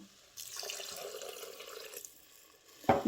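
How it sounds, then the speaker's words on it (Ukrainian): Water runs from a tap into a multicooker pot over buckwheat groats, a steady splashing pour lasting a few seconds. A sharper clatter comes at the end, and no one speaks. "Заливаємо крупу водою, закриваємо кришку мультиварки"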